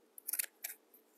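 Scissors cutting through foam flower material, a few quick close snips alone in a quiet room.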